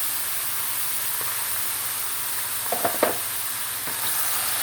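Loud, steady sizzle of meat searing in a hot pan for Turkish kavurma, a constant hiss with a few sharp pops near the middle.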